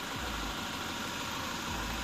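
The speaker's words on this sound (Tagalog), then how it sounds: "Ayan o, tumutunog yung makina niya ngayon, no? Pakinggan nyo yung makina niya." A 2025 Toyota Innova XE engine runs at idle, a steady low hum with faint mechanical vibration, continuous and even with no talk over it.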